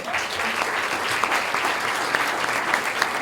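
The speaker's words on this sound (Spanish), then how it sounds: "Quiero también pedir un aplauso para Dalia Gersuni, que es la autora." Steady applause from a crowd at a university political science talk, a dense even wash of clapping that holds at the same level throughout.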